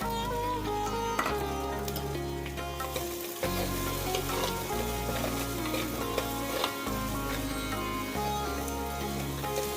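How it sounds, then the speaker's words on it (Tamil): Shallots and garlic fry with curry leaves in hot oil. A steady sizzle runs under repeated stirring scrapes, with background music playing throughout. "வெங்காயம் நல்லா வறுப்படட்டும்."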